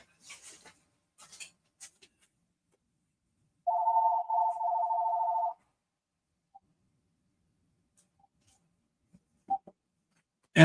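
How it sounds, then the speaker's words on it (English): A home telephone rings once in a single sustained electronic burst of about two seconds, heard alone in a quiet room with scattered small clicks and taps before and after. "my infamous auto telephone is ringing"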